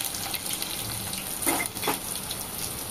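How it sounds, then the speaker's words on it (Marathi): Chopped onion hits hot oil already seasoned with curry leaves, giving a steady, soft frying hiss with a couple of brief louder crackles, heard close and alone. "त्याच्यानंतर छोटासा अर्धा कांदा मी चिरून घेतलेला आहे तो घालूया"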